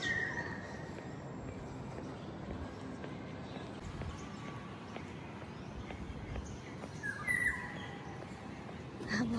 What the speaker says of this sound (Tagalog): Sumisipol ang mga ibon.